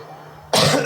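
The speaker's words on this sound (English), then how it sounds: "I'm coughing so much." One sudden, loud, close cough that bursts in after a quiet stretch and rings on briefly.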